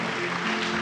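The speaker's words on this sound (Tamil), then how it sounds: "நம்ம கைத்தட்டி நம்ம இந்த தம்பிக்கு தேங்க்யூ" Audience applause for a boy at a church-related event, a dense steady wash of clapping lasting under a second with no voices over it.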